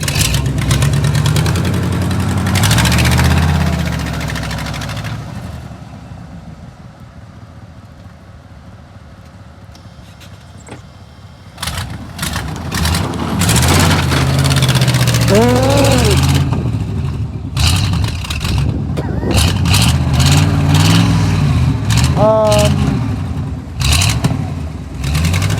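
Vehicle engine in snow, first idling with low rumbling, then quieter, then revved in several sharp bursts that rise and fall; a person talks over parts of it.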